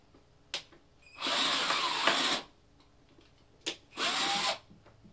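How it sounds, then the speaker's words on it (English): Two bursts of a power drill whirring, a longer one followed by a shorter one, close by, with a few clicks between them, drilling a hole in a bonsai container. "I'll need to drill a hole to the container"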